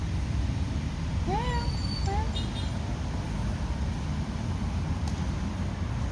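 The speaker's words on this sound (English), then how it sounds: "Hey, orphan cat," A stray cat gives two short, rising meows early on, set against steady outdoor traffic rumble from a nearby road.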